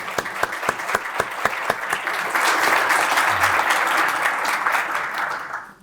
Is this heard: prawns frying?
no